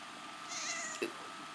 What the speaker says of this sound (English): Thanks, cat. That was well timed.